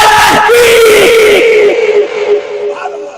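A crowd chants the religious slogan Nara-e-Haidari together, loud sustained massed voices rising and falling in a drawn-out shout that fades toward the end.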